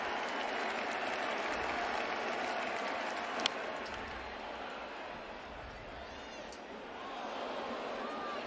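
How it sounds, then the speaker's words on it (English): A big Opening Day crowd at Yankee Stadium for the 2023 Giants vs Yankees baseball game applauds and roars in a steady, dense wash of distant clapping and cheering that continues throughout. "Big crowd."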